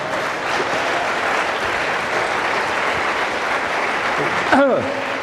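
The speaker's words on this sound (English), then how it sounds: "I'm getting a round of applause from you people" Audience applause fills a festival talk hall, a steady, dense clatter of many hands that holds near and loud throughout before a brief shift near the end.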